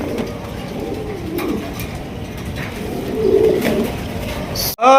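Low, soft Turkish Tumbler pigeon coos murmur repeatedly over a busy background hum, with a brief click near the end.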